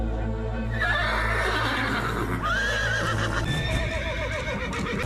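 A horse gives a loud, wavering whinny, then a second neigh follows, over a dense, constant background of hoofbeats and rumbling noise that continues throughout the scene.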